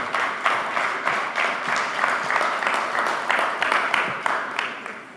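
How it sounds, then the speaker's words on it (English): An audience applauds at the end of a talk on prenatal nutrition and pregnancy diet, a steady, dense round of clapping that carries on for several seconds with no break. "Ladies and gentlemen, please, it deserves a fabulous round of applause."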